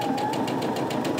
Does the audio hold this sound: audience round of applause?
no